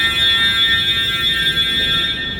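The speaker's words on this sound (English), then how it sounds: "Must be testing the alarms." An indoor fire alarm blares a continuous loud, piercing electronic tone without a break, with no one talking over it.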